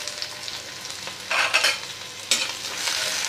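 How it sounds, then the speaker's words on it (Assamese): Onion and garlic sizzle steadily in a pan over a lowered gas flame, with louder bursts of scraping as they are stirred, close and with no voices. "প্ৰথমতে মই প্লেটত থকা পিঁয়াজ নহৰু এইখিনি ভাজি ল'ম।"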